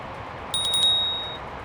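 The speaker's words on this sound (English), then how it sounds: "Let's go down here and test out our bell, shall we?" Bell on an Inokim Light 2 electric scooter rings in a quick burst of three or four bright dings, then rings on briefly over steady rolling and wind noise outdoors.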